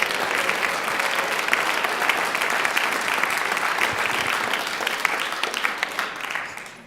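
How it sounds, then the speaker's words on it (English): A large congregation at a community evening event bursts into dense, sustained applause, steady and loud for several seconds before tapering slightly at the end. "So let's give everybody a huge round of applause."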